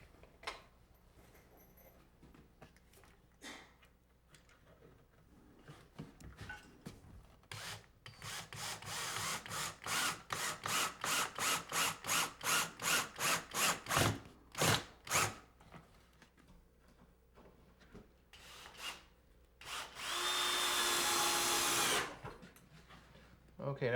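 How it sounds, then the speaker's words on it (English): A power drill drives screws into wood trim in a farmhouse, with rapid whirring bursts in a stuttering run and then one longer sustained drive, close and fairly loud, with occasional talk between. "now the screws will really do the job of driving it close in"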